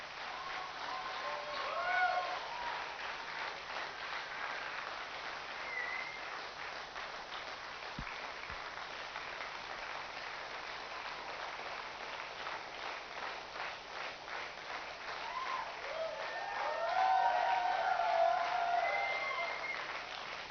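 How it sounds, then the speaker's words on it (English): Standing audience applause at a July graduation ceremony, a steady, fairly soft wash of clapping from many people that swells near the end, with faint voices mixed in. "I'd like us to stand and just really give him a round of applause."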